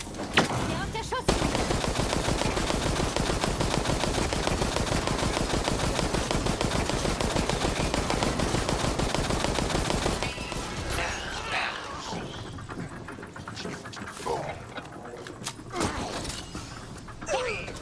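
Dense, rapid gunfire in Resident Evil Resistance rattles continuously, loud and close, then breaks into scattered shots and crashes amid quieter game sounds.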